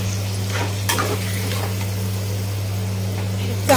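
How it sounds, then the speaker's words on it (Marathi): Marinated chicken liver meets hot oil in a pan with a steady, close sizzle and frying hiss, a brief clatter near the start, and a constant low hum beneath. "ते आता आपण फोडणीला घालूया"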